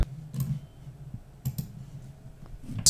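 A handful of sharp computer mouse clicks, close and distinct, separated by quiet pauses, as OneNote is opened on a computer.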